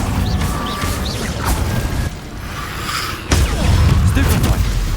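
Confringo blasting spell explosions in the Hogwarts Legacy video game, loud booming bursts with crashing impacts over a busy combat soundscape, with a heavier blast near the end.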